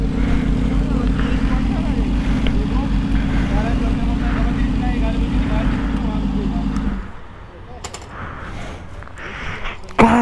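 Many motorcycles pass along a four-lane road in the morning: a loud, steady engine drone for about seven seconds, then it drops away to quieter traffic noise with a few sharp knocks at the end.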